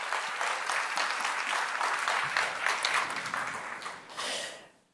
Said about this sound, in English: let's all give her a round of applause